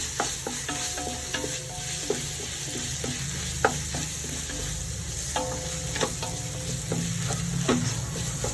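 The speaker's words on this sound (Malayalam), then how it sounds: "ഇഞ്ചിയും വെളുത്തുള്ളിയും മുളകും അരച്ച് വെച്ചത് ഇട്ട് കൊടുക്കാം ഇതിൻ്റെ പച്ചമണം പോകണം" Ground ginger, garlic and chili paste frying in oil for prawn biryani, a steady dense sizzle with repeated scraping stir clicks of a spoon against the pan, fairly close, no talk.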